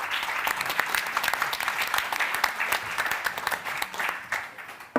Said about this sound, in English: Give Arne an applause.